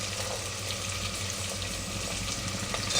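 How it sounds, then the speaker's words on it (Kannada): Beans and potatoes added to a hot pan for pulao, sizzling in a steady close hiss with no talk over it. "ನಾನು ಎಲ್ಲ ತರಕಾರಿನ ಹಾಕೋತಾ ಇದ್ದೀನಿ"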